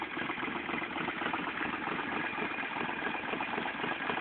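A 2004 Suzuki Volusia 800cc motorcycle engine idles steadily, a continuous low rumble with an even throb held at close range throughout, with no other sounds.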